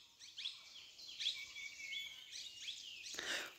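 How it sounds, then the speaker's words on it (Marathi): Birds chirp and sing in a rainy Konkan village near Dapoli, a string of bright, quick calls and short trills repeating at moderate distance, alone with no one speaking. "पक्ष्यांचे आवाज बघा"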